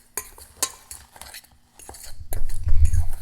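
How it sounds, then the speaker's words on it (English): A fork mixing dry ingredients in a bowl, with a few sharp clinks against the bowl followed by a louder, steady scraping stir. "So here I'm going to go ahead and mix it up with a fork."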